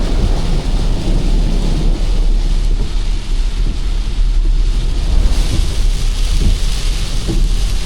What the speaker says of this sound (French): hier soir je me suis bouffé une tempête carabinée en arrivant dans le secteur